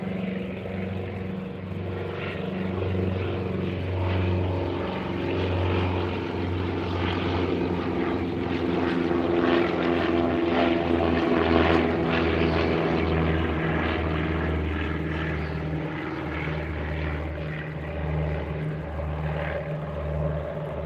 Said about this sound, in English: I'm gonna wait till this plane to go over our heads.